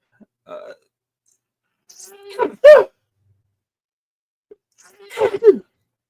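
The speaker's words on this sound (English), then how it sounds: "Ooh, I'm sneezing." A person sneezes, with a sharp explosive burst followed by another similar sneeze a few seconds later, close and loud, with brief breathy sounds before.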